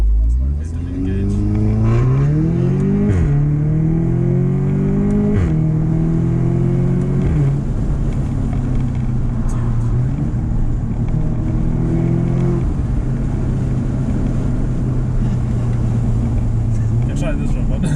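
Audi S3 with a Milltek exhaust launches hard, its engine revving loudly up through several gears with distinct shift drops, close and sustained, while people talk over it.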